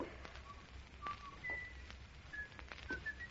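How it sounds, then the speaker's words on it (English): Someone whistles a slow, wavering tune, clear high notes rising and falling over a quiet background. "It's the whistling killer."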